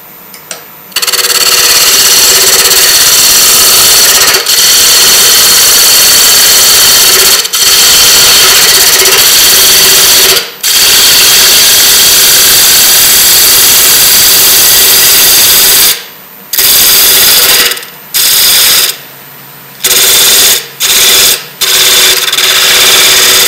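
A wood lathe turns a maple burl lidded container at about 1,000 RPM with a loud, steady motor hum and a whine. Near the end the sound breaks into short pauses as the tool lifts and returns.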